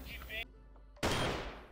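A single loud gunshot in the CrossFire video game, a sharp close blast with a ringing tail, following a brief burst of game sound and a short quiet gap.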